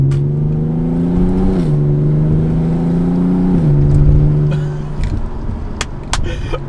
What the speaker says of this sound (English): Oh, the downshifts. Oh, they're so good.